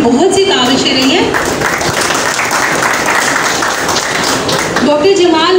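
Audience applause at a charity event fills the space with steady broadband clapping, while a voice carries over it at the start and again at the end.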